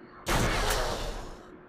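A heavy energy blast from the ion cannon in the top-down shooter Crimsonland, one loud burst that cuts in sharply and rings out with a broad, noisy roar before easing off.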